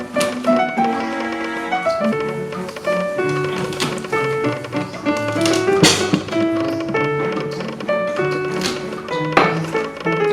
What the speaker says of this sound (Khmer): ហើយយើងចាប់ដើមច្រាំខ្ទឹមស